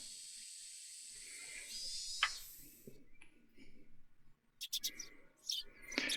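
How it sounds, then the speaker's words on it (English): Morning birdsong as a game sound effect in the visual novel Higurashi When They Cry, faint scattered chirps and tweets over a quiet hiss, with a few sharper high calls toward the end. "The chirping of birds served as my alarm clock."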